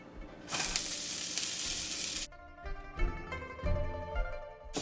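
White rice hits a very hot pan for a stir fry, bursting into a loud hissing sizzle, then cut off and followed by stirring scrapes and crackling bursts up close.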